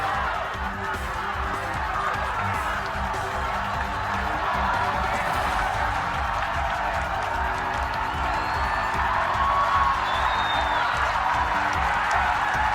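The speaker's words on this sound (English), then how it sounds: "Love how that crowd noise, the gallery noise changes and then builds." A golf gallery at the final round of the 2018 Chevron Championship, a women's event, builds its noise into a sustained, swelling crowd roar with cheers and whoops as a third shot lands on a par-3 hole, steady and loud throughout.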